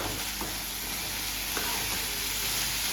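Food deep-frying in hot oil during home cooking gives off a loud, continuous sizzle with a steady crackling hiss, and a couple of faint clinks of stirring mixed in.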